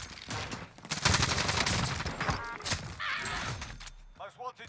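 Dense, loud automatic gunfire rattles nonstop in the Warzone video game, mixed with explosive blasts and crackling impacts, while a player's voice talks over it.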